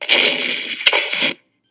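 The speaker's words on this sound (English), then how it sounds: "and you can hear the explosion separately." A noisy game explosion, a sustained crackling burst with a sharp pop in the middle, fading out after just over a second.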